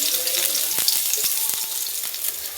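Crushed ginger and garlic hit hot oil in a pan while masala is prepared for paneer gobi manchurian, producing a loud continuous sizzle broken by a few sharp crackles and pops.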